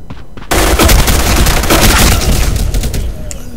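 Dense gunfire from many shooters in the video game Black: a sudden loud burst of overlapping rapid shots and booms that continues steadily, close and heavy, with no talk over it.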